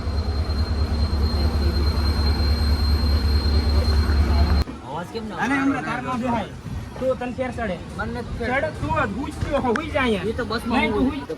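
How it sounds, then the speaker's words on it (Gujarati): Rumbling train noise with a steady low drone as the train starts to move toward Dwarka, then the rattle of rail cars and voices talking over the moving train. "ટ્રેન થઈ ગઈ છે સ્ટાર્ટ"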